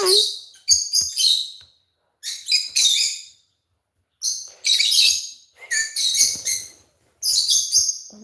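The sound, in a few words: pet lovebirds chirping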